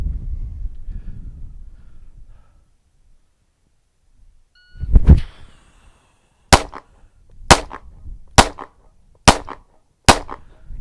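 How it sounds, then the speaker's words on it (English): Five sharp handgun shots ring out one-handed at a target on an outdoor range, evenly spaced about a second apart, loud and close, after a short rustle and a quiet pause. "5 rounds into the 5 ring, strong hand only"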